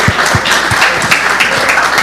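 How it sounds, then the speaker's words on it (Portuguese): Close, loud applause from a seminar audience, a brief burst of dense clapping with a few distinct nearby hand claps standing out. "uma salva de palmas"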